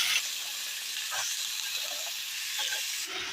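Half a kilo of small carrot pieces sizzle in hot tempering oil, a steady bright hiss of frying with brief stirring scrapes, close and even from start to end.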